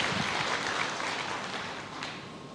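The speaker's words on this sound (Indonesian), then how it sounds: "Berikan tepuk tangan yang meriah buat Tuhan." A church congregation applauds during a sermon, a dense, even wash of clapping that holds steady for a couple of seconds before tapering slightly.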